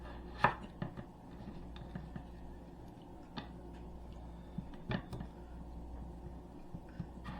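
A knife cutting potatoes on a board, sharp scattered chops and taps at an uneven pace, fairly quiet and close, with soft background hum between strikes.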